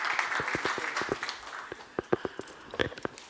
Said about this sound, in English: A big round of applause for my great team here.